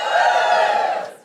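An audience at a live podcast recording lets out a short loud group cheer and whoop, voices blending into one bright roar that fades away within about a second.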